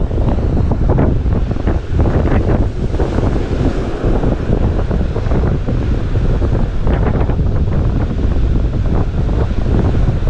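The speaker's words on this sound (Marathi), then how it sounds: "हवा खूप आहे हवा" A strong wind blows on the Konkan seashore during shore fishing, roaring loudly and continuously and buffeting the microphone, with surf rushing underneath and no talking.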